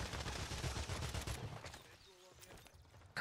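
Shotgun fire in the Call of Duty: Warzone video game, a dense burst of gunshots crackling through the first half and fading under game noise, with a sharp blast returning at the very end.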